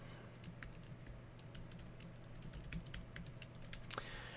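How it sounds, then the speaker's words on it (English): Someone types a password on a computer keyboard, a steady run of quiet, close key clicks with one sharper tap near the end, no talking. "let's get our password typed in here"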